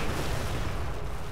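Artillery fire in Company of Heroes Opposing Fronts, a dense, steady rumble of distant booming guns sustained through the brief moment without pause.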